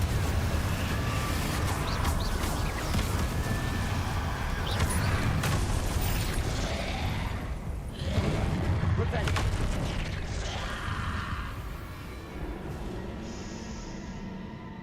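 Explosive blasts from Confringo spells in the video game Hogwarts Legacy boom over steady game noise, several loud bursts in a row, with a voice talking throughout.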